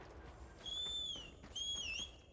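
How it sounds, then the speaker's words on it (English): A rising and falling whistle calls a mount in the video game Monster Hunter Wilds, sounding as two clear melodic whistles a moment apart over a quiet game background. "I'm whistling from my mount now"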